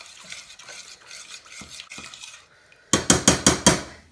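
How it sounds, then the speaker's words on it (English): Soy sauce, three tablespoons of it, being stirred into a dish with a utensil, scraping softly at first and then knocking out five loud, rhythmic clacks against the pan near the end. "Stir that around."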